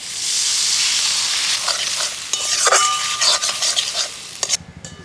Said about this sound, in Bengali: আমারও মশলা কষানো হয়ে গেছে